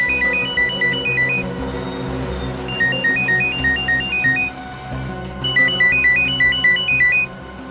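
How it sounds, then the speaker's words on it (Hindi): A phone ringtone plays a repeating bright electronic melody in short bursts, loud and close, over a low background hum. "फोन की घंटी बज रही है"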